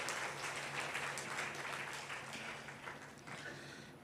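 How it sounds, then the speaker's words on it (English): Steady applause from an audience at a healthcare event honouring a doctor, a dense wash of many hands clapping at even loudness that fades slightly toward the end, with no talking over it. "So a big round of applause for Dr."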